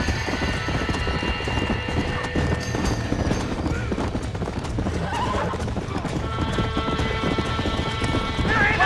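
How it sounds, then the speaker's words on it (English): Horses trapped in a burning barn in the Red Dead Redemption video game whinny and neigh loudly over constant clattering hooves, with raised voices in the chaotic mix. "We gotta get to the horses! They're trapped in there."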